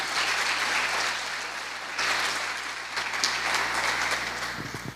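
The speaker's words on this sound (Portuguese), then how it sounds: "Quantos podem aplaudir Jesus por isso?" A church congregation applauds in a dense, steady wash of clapping that stays loud and continuous throughout, with a brief dip and swell partway through.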